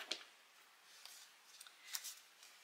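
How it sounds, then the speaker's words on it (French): Large scissors snip through paper along a drawn line during a card-making project, giving a few crisp cuts, one sharp near snip at the start and another around two seconds in, with faint rustling between and no talk. "Alors je vais prendre mon gros ciseau. Donc on coupe, hop, le long du trait."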